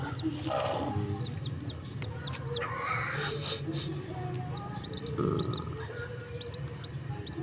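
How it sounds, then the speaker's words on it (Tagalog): Chickens, a cross of wild and native breeds, cluck steadily around a rooster's calls, with small birds chirping and faint rustling in an outdoor yard. "ang lulusog ng mga alaga kong manok"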